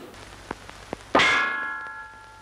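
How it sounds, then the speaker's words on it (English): A few light taps, then a single sharp metallic clang, a comedy head-hit sound effect, that rings on like a struck bell and slowly fades. "Ollie hits Stan on the head, and it sounds like an empty bell."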